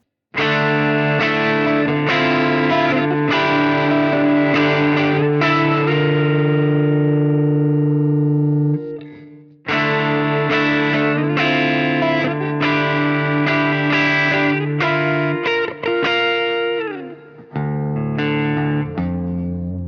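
Electric guitar run through a Fractal Axe FX studio compressor, with sustained distorted chords and single notes ringing out evenly, a brief gap midway and then further phrases, with no talking.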